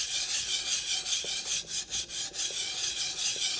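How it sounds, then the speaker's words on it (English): Back of a chisel rubbed back and forth on a sharpening surface to remove a burr, a steady close rasping scrape in repeated strokes. "put your chisel down here and work on the back side"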